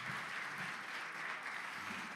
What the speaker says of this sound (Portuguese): Queria que a igreja desse um aplauso a Jesus agora